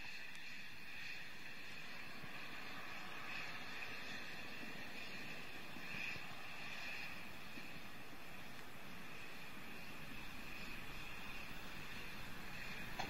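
Space Shuttle Discovery climbing after launch from Kennedy Space Center, a steady broad rocket roar with crackling texture, distant and continuous for the whole stretch, no voices.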